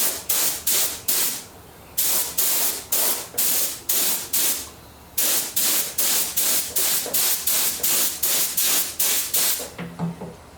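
A spray gun applying Cerakote coating to engine pistons hisses in rapid repeated bursts, about two per second, with brief pauses between groups, loud and close.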